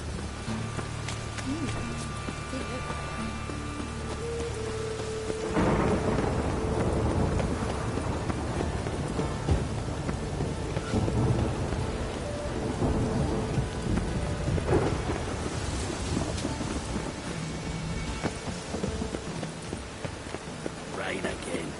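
Steady in-game rainfall in Witcher 3, joined midway by deep, rolling thunder crashes that swell and fade, with a faint hoofbeat-like clatter and low game music underneath.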